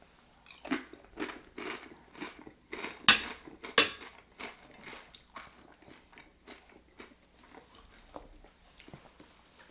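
Someone eats burrata cheese close to the microphone, with irregular wet bites and chewing and occasional clinks of cutlery against a dish, and no talking.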